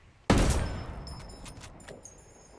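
A single loud KSVK sniper rifle shot fired through a T5XI scope in Ghost Recon Wildlands, sharp and close, followed by a long reverberant tail and a few faint metallic clicks of the bolt.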